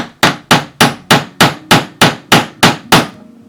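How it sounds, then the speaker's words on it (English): A hammer firmly tapping a tool held straight while making a cosplay prop: ten loud, evenly spaced metallic strikes about a third of a second apart, each ringing briefly before the next, with no talk. "hold tool straight and firmly tap with hammer"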